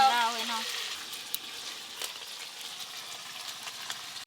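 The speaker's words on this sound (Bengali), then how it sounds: "পেঁয়াজ বাটা ভাজা ভাজা হয়ে গেছে" Onion paste frying in a pan while cooking stuffed pointed gourd, a steady close sizzle with a short tonal sound at the start and a few faint clinks.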